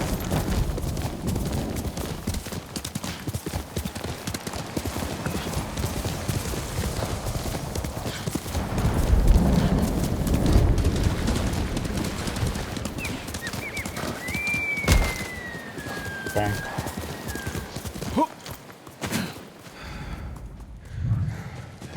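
Kage, a horse in the video game Ghost of Tsushima, gallops in a steady rapid clip-clop of hooves on ground, loud and close throughout, with a brief whinny and snort near the end.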